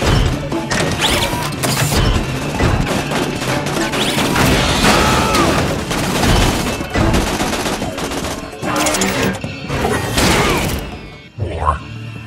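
Rapid bursts of gunfire and crashing impacts from the video game Tales from the Borderlands fill the scene, loud and dense, with a character's voice breaking in near the end.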